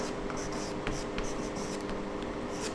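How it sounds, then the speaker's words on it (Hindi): Options being written on a board during a Hindi language class, with steady scratchy strokes and short taps over a constant background hum, moderately close. "मैं आपको ऑप्शंस लिख रहा हूं"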